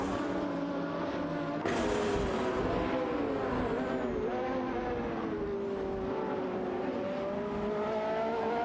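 Race cars in an AI racing video game, including a Porsche 911 991 GT3, drone steadily with layered engine tones and shifting pitch as cars jostle for position, a continuous loud engine bed with no talk.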